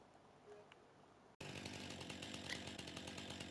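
Chainsaw in the farming game Farming Simulator 19 starts abruptly after a quiet moment and runs loud and steady, engine snarling continuously up close with slight pitch wobbles.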